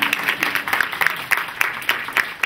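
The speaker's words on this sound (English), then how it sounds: "Yes, you may clap." A conference audience breaks into applause at a business leadership event, a fairly loud crowd of clapping hands with brisk, uneven pulses throughout.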